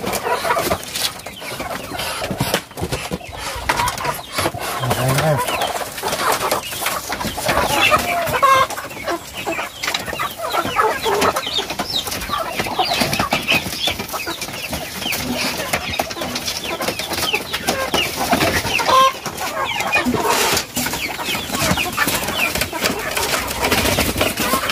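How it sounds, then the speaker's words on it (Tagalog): Many chickens clucking and chattering together nearby as they are fed, a constant busy flock sound with occasional louder squawks, and a person's voice faintly underneath. "papakain ko na po itong mga manok"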